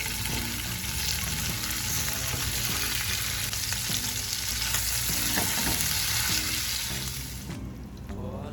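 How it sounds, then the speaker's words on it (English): Spinach sautéing in coconut oil in a skillet over a high flame, a loud steady sizzle with stirring scrapes throughout, easing slightly near the end. "On a high flame in a skillet, I'm going to add coconut oil and quickly saute it."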